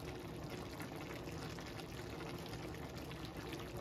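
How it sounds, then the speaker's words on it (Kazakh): Water is poured steadily into a cooking pot of fried vegetables and barley, a constant close splashing rush lasting a few seconds without pause. "Қалғанын құйып жіберейін деп тұрмын."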